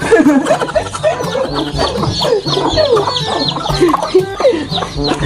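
A flock of chickens clucks busily up close, overlapping bursts of clucks and squawks coming in a constant loud chatter.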